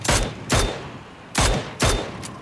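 UMP submachine gun firing in PUBG, heard as four sharp, loud shots in quick irregular succession with a fifth fainter report at the end, each leaving a short decaying tail.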